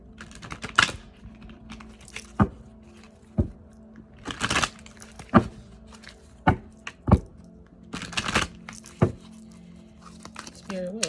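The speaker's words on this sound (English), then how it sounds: "let me shuffle real quick" A deck of tarot cards is shuffled and handled in short irregular bursts of crisp slapping and riffling, close and fairly quiet between the bursts, with soft speech now and then.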